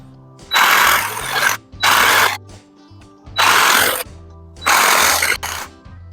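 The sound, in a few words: jigsaw cutting wood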